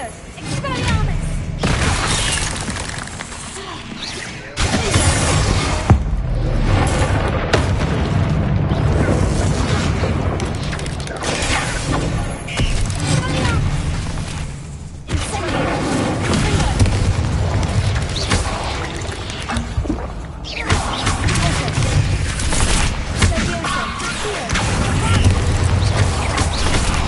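Spell explosions from Hogwarts Legacy gameplay, a dense run of booming blasts and crackling impacts layered over a continuous loud game soundscape with spoken incantations throughout.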